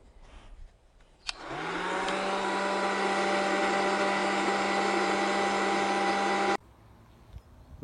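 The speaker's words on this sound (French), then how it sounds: "Maintenant, on va chauffer la colle pour enlever la colle des lettrages qui reste." A heat gun warms leftover glue from lettering on a taxi's bodywork, switching on with a click and blowing a steady, loud whooshing hiss for about five seconds before cutting off abruptly.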